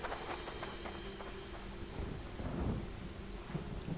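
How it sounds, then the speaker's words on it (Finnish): Thunderstorm ambience in the video game Resident Evil: Revelations, set around a ship at sea: steady rain hiss and wind with a low thunder rumble swelling midway, continuous and fairly close, with no talk. "Storm coming."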